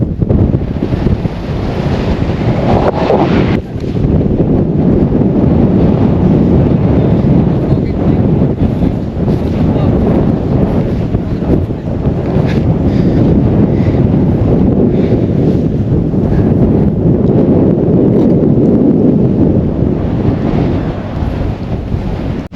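Hilltop gale at Bolumalai Fort battering the microphone in a continuous loud roar, with rumbling gusts that surge and ease over a long steady stretch, no voices breaking through.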